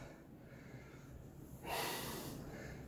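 A sharp, forceful exhale during a squat workout, one breathy burst partway through that trails off against a quiet room, close to the microphone with no talking.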